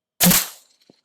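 One loud, close rifle shot during a summer coyote hunt, a sharp crack that tails off quickly into silence, then a faint small thump.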